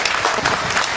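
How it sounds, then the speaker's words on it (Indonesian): An audience at a lecture event applauds, a dense, loud burst of many hands clapping that fills the short moment. "Tepuk tangan untuk beliau."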